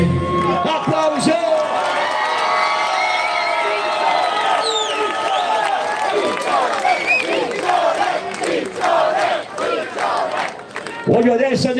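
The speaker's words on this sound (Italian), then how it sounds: "applauso!" A live concert crowd at an Italian singalong show roars with sustained cheering, whoops and shouts, loud and dense throughout, with voices calling out over the noise before it thins near the end.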